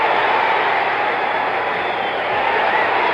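Spectators at a Muhammad Ali boxing match cheer and clamor in a continuous, loud wall of crowd noise that swells and holds without letting up.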